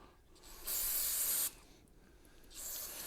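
Brake cleaner sprays out of an aerosol can onto wheel bearings to flush out old grease in a garage, a loud hissing burst of under a second, then a quieter pause and a second, softer spray.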